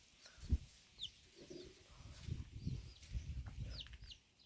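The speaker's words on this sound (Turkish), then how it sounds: "Arkadaşlar şu horoz zaten. Şurada tavuk." Chickens cluck softly in short, scattered bursts, fairly faint, with a few light high chirps in the background.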